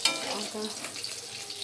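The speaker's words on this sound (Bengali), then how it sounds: "মাছ ভাজা হয়ে গেছে" Fish frying in a pan, heard as a short burst of close, crackling sizzle with a light stir or scrape.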